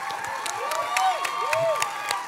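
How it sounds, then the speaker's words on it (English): Audience at a DCU Glee show clapping and cheering for two performers, a steady wash of applause with whoops and scattered shouts rising through it and voices calling out. "Can I get a round of applause for it?"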